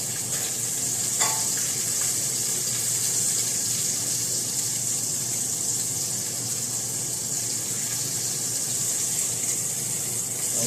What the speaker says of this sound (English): Pan frying the fish very well.